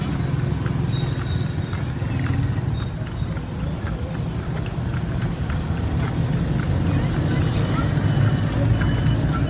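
Steady hoof clip-clop from a horse moving along a street in Dumaguete City, Philippines, mixed into loud broadband traffic-like noise and a faint background voice.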